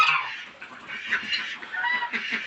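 A flock of ducks being fed quacking and chattering continuously, fairly close, with overlapping calls and no talking.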